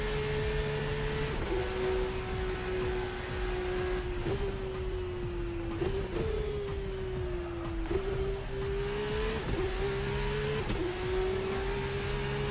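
A hybrid Formula-style race car engine in a racing simulator video game holds a steady high whine, dipping briefly at each gear change and revving back up several times, loud and continuous throughout.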